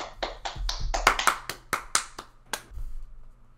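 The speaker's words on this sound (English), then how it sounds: "everybody clap for Jet" Scattered hand claps from a few people at a casual podcast gathering, a dozen or so sharp slaps in an uneven, loose rhythm, close and fairly loud, with no talking over them.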